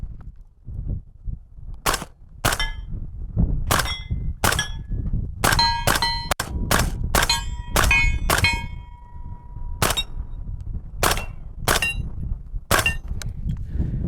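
A suppressed Maxim Defense 300 Blackout rifle fires a series of sharp shots, single and in quick clusters, each crack followed by a metallic ring of hit steel targets, over low outdoor rumble.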